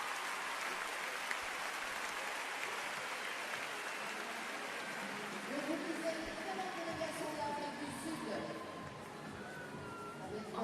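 Crowd applause fills a gymnastics arena during a World Challenge Cup meet in Paris, a steady wash of clapping and cheering throughout, with a commentator's voice over it in the second half.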